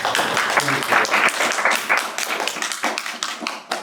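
Audience at an open poetry and fiction reading claps after a poem, a dense patter of many hands that stays fairly steady and close before thinning slightly toward the end.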